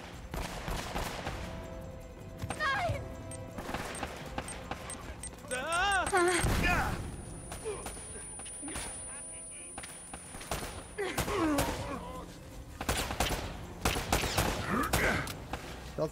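Gunfire in the video game Uncharted: Drake's Fortune, jungle combat with scattered close shots and bursts mixed with game voices shouting, effects and background score, busy and fairly dense throughout.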